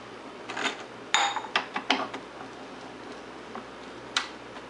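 A cup clicks and ratchets as it is locked into an espresso machine, a cluster of quick plastic clacks and a twist-lock creak, followed by one more click, close and alone.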